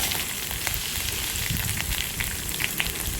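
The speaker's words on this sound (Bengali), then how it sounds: "আমি এবার এখানে একটুখানি তেল আর তেলের মধ্যে কারি পাতা আর একটু রাই, যেটা লাল সর্ষে, সেই সর্ষেটা দিয়ে একটু আমি এটা ফোড়ন দেবো।" Curry leaves and red mustard seeds crackle in a little hot oil for a tempering, a dense close sizzle sprinkled with sharp popping spits throughout.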